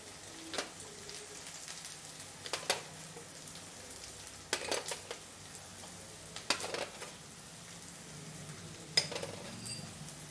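Garlic kofta masala frying in a pan as green chili and spices go in, a soft steady sizzle with scattered sharp clinks and scrapes of a spoon stirring against the pan.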